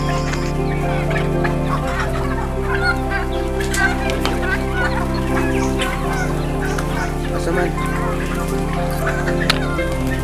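A flock of chickens clucks and chatters constantly, close by, many overlapping calls over a low steady hum.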